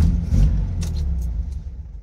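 A car engine runs at a steady idle just after its starter motor was repaired, giving a continuous low rumble close by with no talk over it.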